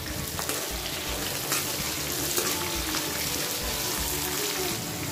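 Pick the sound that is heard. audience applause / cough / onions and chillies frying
onions and chillies frying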